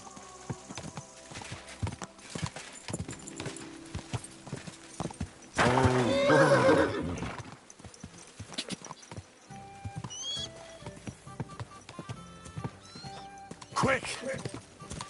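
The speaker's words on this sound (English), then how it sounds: "Easy, good horse." Horse from Kingdom Come Deliverance 2, with hoof clip-clop throughout and a loud whinny in the middle, mixed with game sounds and a voice speaking over it.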